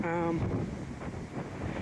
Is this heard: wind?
yes